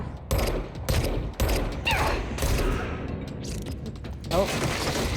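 Rapid bursts of gunfire from the video game Control, loud and dense, with mechanical clatter layered throughout and brief vocal reactions near the end.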